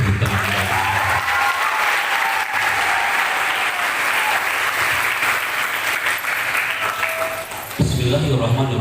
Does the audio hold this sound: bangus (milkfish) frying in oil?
no